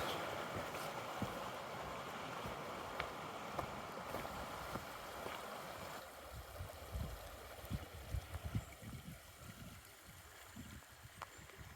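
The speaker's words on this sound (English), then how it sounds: "This is a lovely little creek before Deep Lake" A small mountain creek on a trail near a lake flows with a steady, soft broadband rush of water, faint and continuous throughout, with a few low bumps and knocks toward the end.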